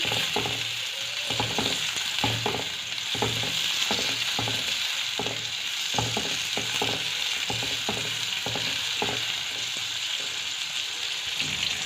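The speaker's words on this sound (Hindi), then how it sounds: "प्याज के साथ साथ ये भी फ्राई हो जाएंगे।" Onions, garlic and ginger frying in a pan over low flame, a steady sizzle with repeated scraping strokes of a spoon stirring at an irregular rhythm, close and clear, with no talking.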